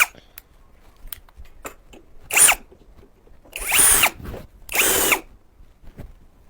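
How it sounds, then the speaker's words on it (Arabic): A power drill whirs in three short bursts, loud and close, separated by pauses filled with sharp clicks and taps. "هات الشنيور"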